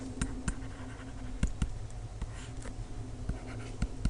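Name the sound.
writing a geometry proof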